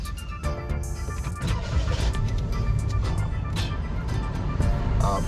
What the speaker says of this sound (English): press the brake and do the push start